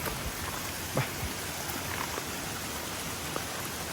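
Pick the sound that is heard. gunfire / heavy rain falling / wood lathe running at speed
heavy rain falling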